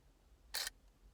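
A single sharp click as the shutter of a Zorki rangefinder camera fires. The camera is stiff to wind and its shutter seems to run slowly. The crisp snap stands close and alone against near silence.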